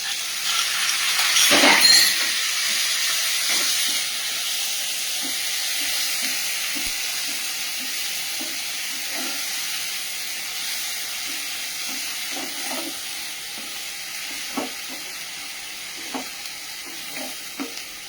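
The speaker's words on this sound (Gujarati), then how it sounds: "આપણે ઝીણી સમારેલી ડુંગળી છે તે એડ કરશું." Finely chopped onion hits a hot pan with a loud burst of sizzle, then settles into a steady frying hiss with occasional stirring clicks and scrapes.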